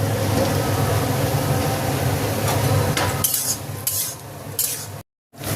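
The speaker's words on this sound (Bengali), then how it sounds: "ওটা একটু ভাজা ভাজা হয়ে যায়, কাঁচা লঙ্কা আর ক্যাপসিকামটা দিয়ে দেবো" Green chillies and capsicum stir-fry in a pan, a steady sizzle broken by the clinks and scrapes of a spatula, then a brief silence.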